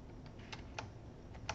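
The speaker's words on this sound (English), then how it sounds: "I'll just type in" Keys clatter on a computer keyboard during photo-editing work in Photoshop, a few quiet, separate clicks of brief typing with no talk.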